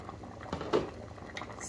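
A pot of sweet potato and chickpea chili simmers with a soft, steady bubbling, and a few slightly louder pops rise above a quiet, continuous background.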